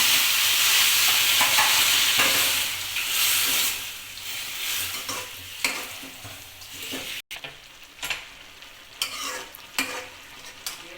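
Hot water poured into vermicelli upma frying in a pan sets off a loud, hissing sizzle that slowly fades, followed by stirring and scraping knocks close by.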